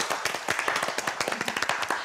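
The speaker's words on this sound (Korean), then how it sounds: "박수 한번 치는 분위기" A short burst of quick, irregular hand clapping from a small group at a church lecture, steady and fairly close, lasting about two seconds with no talking.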